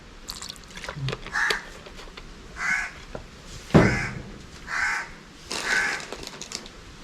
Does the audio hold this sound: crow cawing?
yes